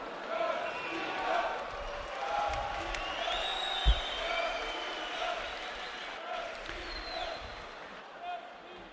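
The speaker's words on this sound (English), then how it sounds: "you hear the cheers from the crowd" Crowd cheering and murmuring throughout a packed arena at a boxing world championship semi-final session in Baku, a steady broad roar with swells and a single sharp thump near the middle, a commentator talking over it.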